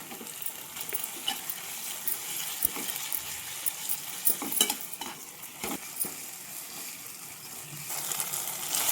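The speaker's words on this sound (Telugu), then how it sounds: "ఇప్పుడైతే ఈ చికెన్ని వేసి ఒకసారి కలుపుకుందాం" Chicken pieces stirred into frying Andhra-style gongura curry, close sizzling in oil with repeated scraping and clattering of a spoon against the pot, no voices.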